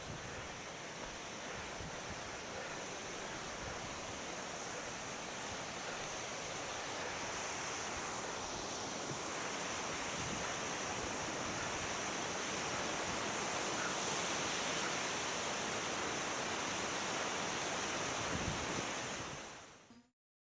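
Klapfbach waterfall in the mountains above Innervillgraten, rushing as a steady, dense roar that stays loud and unchanging throughout, then cuts off at the end.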